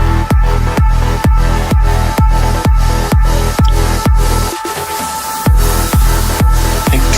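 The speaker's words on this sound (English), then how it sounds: "the main kick playing right here." A main kick drum in an uplifting trance track, produced in FL Studio, pounding in a steady four-on-the-floor beat under loud sustained synths, briefly cutting out for about a second before returning, with no talking.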